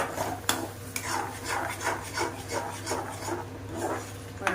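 Sweet potato halwa with ghee being stirred in a pan, a steady scraping and rubbing of a spoon against the pan bottom in repeated strokes, close and moderately loud over a constant low hum, with no talking.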